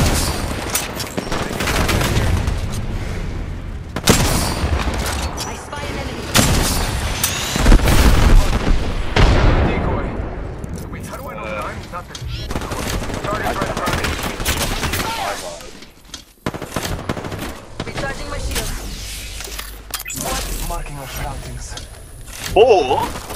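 Rapid gunfire from a shooter video game, with bursts of automatic fire and heavy booms crowding together loudly over the whole stretch, easing briefly near the middle before the shooting resumes.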